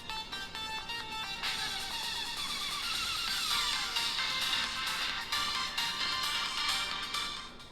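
A Redmi 13 phone ringtone plays at maximum volume through its single speaker, a bright, steady melodic tone that sounds continuously for about eight seconds with no talking over it.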